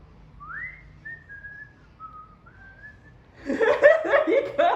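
A woman whistles a short, clear tune of a few sustained notes, close and alone, then bursts into laughter.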